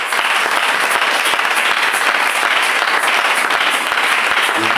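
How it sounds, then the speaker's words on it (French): Church congregation at a jubilee service applauding for the Lord Jesus Christ, dense sustained clapping from a large crowd filling the room at full volume without pause. "Est-ce qu'on peut encore acclamer pour le Seigneur Jésus-Christ?"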